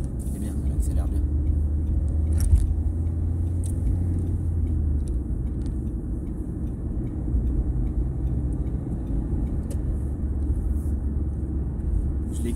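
A car pulling steadily ahead during a driving lesson, its interior engine and road rumble continuous and moderate throughout, with people talking over it and a few small clicks.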